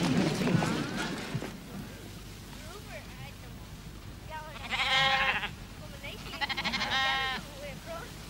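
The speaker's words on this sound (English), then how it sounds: "the sheep are rounded up for shearing" Sheep bleat during a mid-June round-up for shearing, with two wavering cries later on over a faint outdoor background, after a voice talks briefly at the start.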